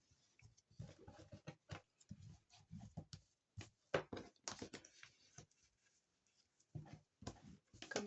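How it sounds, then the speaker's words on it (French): Short scraping strokes of a tool scoring fold lines into paper for a handmade baby album, a quick irregular series of close, quiet rasps and taps. "Et là, on va marquer nos plis."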